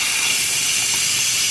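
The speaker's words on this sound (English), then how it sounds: "You can see and hear all the steam coming out." Steam hissing loudly and continuously from an Instant Pot during a quick pressure release, a close, harsh, unbroken jet of hiss.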